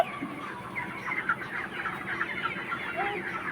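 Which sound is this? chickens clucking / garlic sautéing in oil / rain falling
chickens clucking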